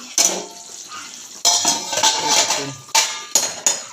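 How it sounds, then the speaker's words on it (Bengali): A lid comes off a pot of Punjabi chicken being cooked down, bright metallic clanks and clinks in several sharp bursts over a soft sizzle. "এবার ঢাকনাটা সরিয়ে দেখি,"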